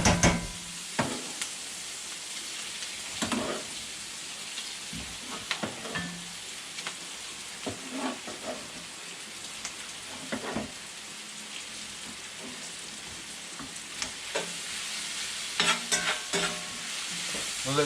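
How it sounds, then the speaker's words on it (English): Sausage and beef tongue browning in a hot pan: a continuous sizzle broken by irregular scraping stirs and clacks of the utensil, close and with no talking. "I'll brown this down a little bit more. Gotta add my sausage in there."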